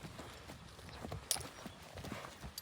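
A horse's hooves clip-clop at a steady walking pace, faint and somewhat distant, against a soft outdoor background.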